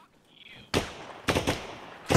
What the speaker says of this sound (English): we've got actual gunshots here in the plant